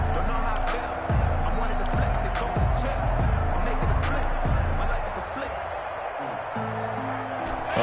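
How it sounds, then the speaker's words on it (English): Stadium crowd roar in a PS4 American football game, a steady loud wash of noise under a commentator's continuous talk, with rhythmic low thumps running through it. "That just means this crowd's going to get even louder"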